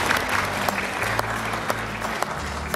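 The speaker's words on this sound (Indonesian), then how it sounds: "Boleh tepuk." A church congregation of over 200 people applauding at an Ascension Day service, steady clapping with a few sharper individual claps popping out, over a low hum.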